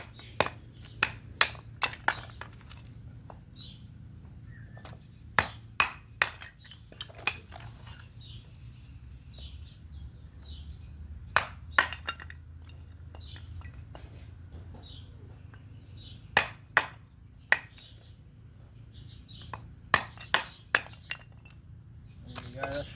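Knife chopping timber for a campfire at a bush camp, a series of sharp, crisp wooden knocks in irregular bursts over quiet outdoor background, fairly close and moderately loud.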